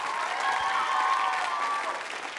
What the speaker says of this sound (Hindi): तालियां जोरों से बजाइए उनके लिए एक बार